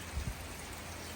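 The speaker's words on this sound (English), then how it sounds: "So, look at that rain." Steady rain falls outdoors on a hiking trail as an even, hissing wash with a couple of low thumps near the start.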